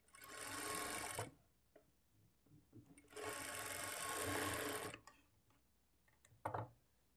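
A sewing machine stitches straight blouse strip pieces together at a half-inch margin, running in two long close bursts with quiet pauses and small clicks between, no talking.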